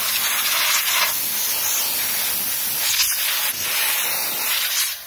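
Canned compressed air blasting dust out of a PlayStation 4 console, a loud, continuous close-up hiss with slight pulses as the nozzle moves.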